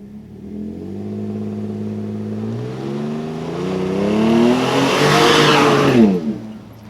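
Ford F-150 pickup truck in track sport mode revving hard with rising engine pitch as the rear tires spin, building to a loud squealing peak before cutting off.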